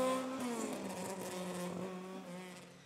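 Historic Vauxhall Firenze rally car on a stage, its engine holding a strained, steady tone with a rising pitch and a touch of tyre noise, loud and close throughout without any voices.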